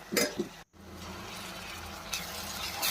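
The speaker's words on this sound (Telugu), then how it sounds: "మంచిగా వేగనివ్వాలి." Ginger garlic paste frying in hot tempering oil in a pan, a steady, soft sizzle with a few stirring scrapes at the start and a brief gap before the frying continues evenly.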